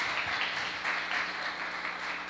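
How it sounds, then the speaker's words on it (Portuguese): Church congregation applauding steadily throughout, a dense even wash of clapping from a seated crowd with no voices on top. "Gente, palmas para eles."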